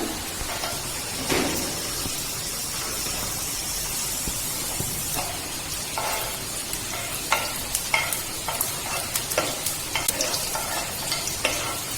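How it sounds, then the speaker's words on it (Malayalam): Ghee heats in a hot pan for a carrot ladoo, a steady close sizzle and hiss running throughout with scattered sharper crackles and pops growing more frequent toward the end, no voices. "ആദ്യം തന്നെ നെയ്യ് ചൂടായിട്ടുള്ള പാനിലേക്ക് ഇട്ട് കൊടുക്കാണ്."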